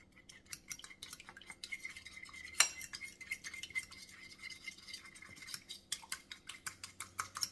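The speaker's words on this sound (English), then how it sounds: "I'm just taking a fork and whisking that around really well." A fork whisks egg, milk and vanilla in a bowl, making quick, rhythmic metallic clinks and scrapes at close range with one sharper tap midway, with no talking.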